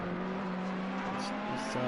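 A GT race car in Assetto Corsa Competizione at Zolder sweeps past, a brief steady engine drone that shifts pitch near the end, heard under a broadcast-style mix.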